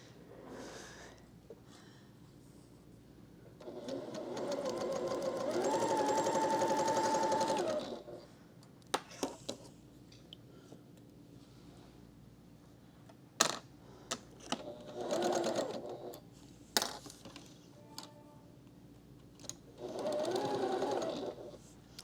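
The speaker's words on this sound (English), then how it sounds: "I'm going to sew these 2 right sides together." A sewing machine stitches quilt fabric pieces sewn right sides together, running in a sustained burst of several seconds and then in two shorter runs, with quiet handling noises between.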